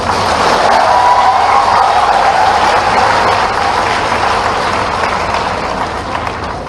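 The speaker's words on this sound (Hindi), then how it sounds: "एक बार फिर आनंद से ताली बजाओ" A large audience claps together at a live student event in Kota, Rajasthan, a loud, dense and steady wash of applause that fades slightly toward the end, with no voices over it.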